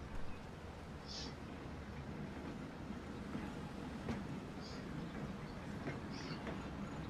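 Tram from the Transport Fever video game rolling through a city, a steady low rumble of wheels on rails with faint rhythmic clacks and occasional soft high chimes, continuous and moderately near.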